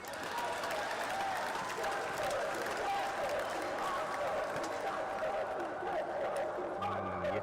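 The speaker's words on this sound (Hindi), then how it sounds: "ये तालियों की गड़गड़ाहट, ये शोर शराबा बता रहा है कि पॉइंट तो आया है शिवम के लिए।" Dense crowd applause and cheering at a kabaddi semi-final between Maharashtra and Uttar Pradesh, a continuous roar from a large audience that stays steady throughout.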